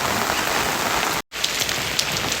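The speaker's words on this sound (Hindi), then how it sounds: "बारिश बारिश" Steady rain pours down on a surface in a broad, continuous hiss, briefly cut off by a sharp gap before resuming with scattered drop taps.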